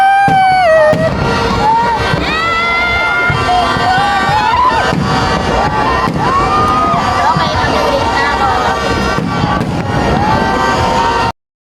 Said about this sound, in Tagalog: Bali nakikita din pala dito sa MOA Seaside yung mga fireworks dun sa Okada tsaka sa Soler.